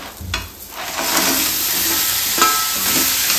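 Cleaned crabs dropped into a pan of fried masala paste for a Maharashtrian crab curry, giving a steady broad sizzle with some stirring and scraping, close and continuous with no voices.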